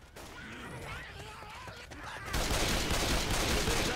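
Gunfire in Left 4 Dead 2 breaks out as a sudden dense burst of rapid shots after a stretch of quieter game noise with warbling tones, continuing loud and steady to the end.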